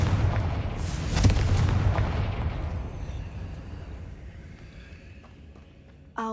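A Confringo fire spell from Hogwarts Legacy erupts in a loud, sharp blast, then trails off into a long, fading rumble that dies away over several seconds.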